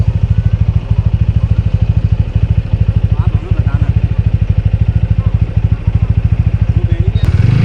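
A motorcycle engine chugs loudly and steadily at close range with a fast, even firing pulse, recorded while riding a mountain road from Delhi toward Binsar near Almora.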